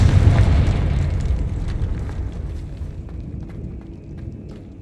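A Confringo spell explodes in Hogwarts Legacy: a heavy, close boom opens the moment, then a rumbling fiery decay thins out over the following seconds with scattered crackles and small pops.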